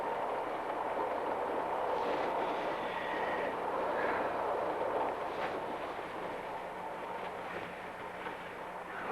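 Continuous rumble of a passenger train running on rails toward Stafford, a steady broadband roar with faint rhythmic clatter and a brief whistle-like tone, holding even and moderately loud throughout.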